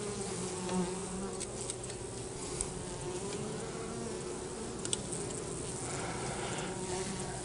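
Honey bees drone steadily in an open beehive being checked for small hive beetles, a dense close buzz that holds through the whole stretch with a few louder passes near the microphone.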